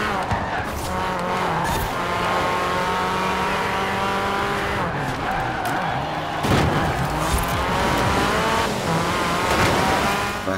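A Ford Focus overtaking during a road race in Forza Horizon 4, with continuous loud engine roar, tyre squeal and skidding throughout, and revs surging near the end.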